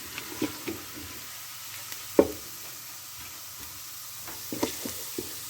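Quiet sizzling of garlic frying in a pan until turning slightly pink, with a soft steady hiss, broken by occasional clicks and taps of a utensil stirring.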